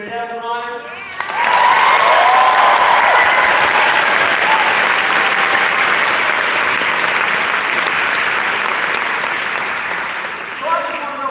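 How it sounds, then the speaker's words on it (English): A large political rally crowd in Kalamazoo bursts into loud, sustained applause with some cheering, a dense roar of clapping that fades slightly near the end, with a speaker's voice briefly before and after. "can we just give one more huge round of applause for our union leaders, Danielle Julard?"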